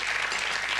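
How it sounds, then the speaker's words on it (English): Studio audience applause on the BBC cooking show Ready Steady Cook comes as a brief, even burst of clapping under a second long, with no voices over it. "Give her a round of applause, ladies and gentlemen."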